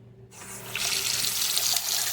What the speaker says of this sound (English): We're gonna fill up the bowl with water until it gets to here.